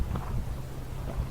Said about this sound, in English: Hopefully this new mic will filter out some of the wind